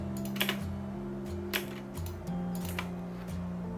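Keyboard typing and mouse clicks while drawing in CAD software, a few sharp close taps and clicks spaced out irregularly, with quiet background hum.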